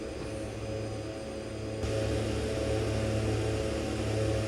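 Steady drone of a de Havilland-style Twin Otter aircraft's engines in flight in X-Plane 11, a constant loud hum that swells slightly partway through, with no talking.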